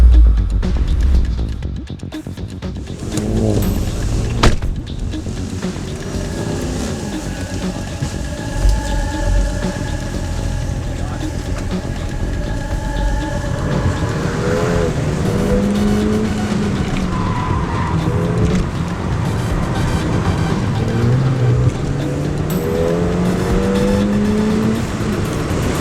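A Ford Fiesta driven hard around a race track, engine revving up and down through gears with tire squeal and skidding, loud and continuous throughout with no talk.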